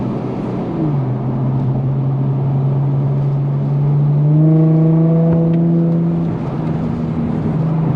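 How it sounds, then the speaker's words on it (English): An Infiniti G35's engine drones low, then its exhaust note rises and deepens as the car accelerates hard in manual mode, loud and close, before easing back. "slow down the window so y'all can hear the exhaust"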